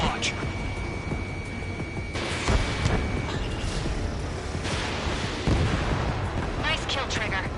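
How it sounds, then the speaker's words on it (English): Missile launch from a fighter jet in Ace Combat 7, a rushing roar and boom buried in a dense wall of jet engine noise, explosions and alarm tones, with a voice talking over it. "Page 2, missile launch."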